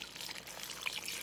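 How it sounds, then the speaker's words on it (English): Hot water pours into a bowl of bread dough mix with yeast and oil for raspberry buns, a faint, short trickling splash. "and 2 cups of hot water,"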